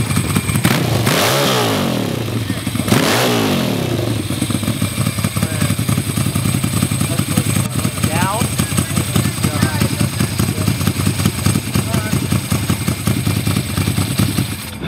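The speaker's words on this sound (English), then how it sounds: "Keith, that exhaust sounds nasty." Ducati 900SS cafe racer engine revving hard through a loud, harsh exhaust, steady rapid firing pulses throughout with a couple of sharp blips early on, close and loud, with people talking nearby.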